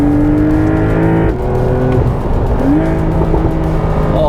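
A Porsche sports car engine revs hard to about 6,500 RPM at the Sepang circuit, a loud continuous roar with shifting pitch as it climbs, close and dominant throughout.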